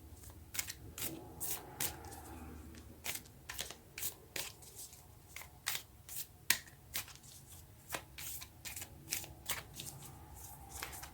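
Tarot cards are shuffled by hand during a reading, giving repeated soft riffling flutters and sharp card slaps in an irregular rhythm. The sound is close and quiet, with no talk.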